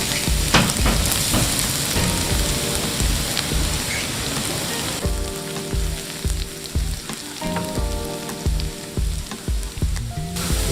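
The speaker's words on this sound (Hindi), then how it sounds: "2 से 3 टेबलस्पून मैं ऑयल का डालूँगा। 2 टेबलस्पून चॉप गार्लिक इसमें ऐड करूँगा।" Chopped garlic sizzling in hot oil for a pizza sauce, a loud, dense, continuous crackle close by, rain-like in texture, with a few faint utensil knocks and no talking.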